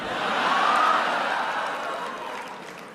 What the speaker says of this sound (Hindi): तालियां तो अब बजने वाली है।